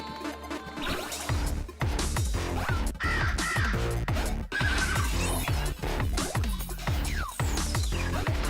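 Crows cawing in the game Titan Souls, a busy overlapping flurry of harsh caws and flapping over a steady game background, loud and continuous throughout, with no speech.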